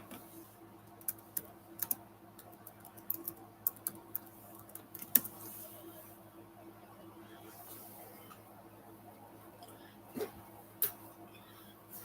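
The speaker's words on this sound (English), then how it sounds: "So I'm going to type any questions." Someone types on a computer keyboard, producing sparse, scattered key clicks in short bursts over a steady low room hum, close and fairly quiet.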